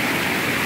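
Flowing water rushes in a steady, loud broadband wash, a brief continuous stretch with no other sounds.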